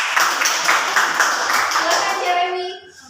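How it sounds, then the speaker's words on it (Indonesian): Pupils in a classroom applaud a student, giving a dense, steady burst of many hands clapping that fades out as voices start to come through. "Tepuk tangan untuk Sarah"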